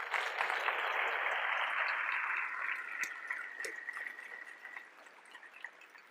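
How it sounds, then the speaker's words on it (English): Conference audience at EmberConf 2017 applauding the organizers, a broad wash of clapping from a large hall that swells at first and then thins and fades to scattered claps. "I'd like to have a round of applause for the organizers"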